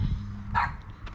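A dog barks at a car being worked on during an E46 BMW M3 LS swap and coilover install, a single sharp bark standing out over a low engine-like hum, fairly close.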